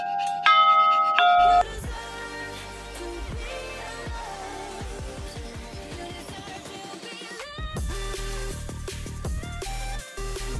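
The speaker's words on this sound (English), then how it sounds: "Bells, yeah, hit my bell." A bell struck outdoors in the Franco Totaro nature park at Caltrano, among art installations, gives a loud ringing tone followed by many rapid metallic strikes and decaying rings that overlap for several seconds.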